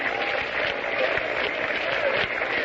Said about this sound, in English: The crowd is beginning a sort of a half-hearted hand clapping.